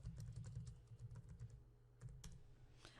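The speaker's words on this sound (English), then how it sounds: "pressing the Enter key on the keyboard" Quiet, rapid keystrokes on a computer keyboard tap out in an irregular clatter, with a short pause and a few final presses, including the Enter key. No one speaks.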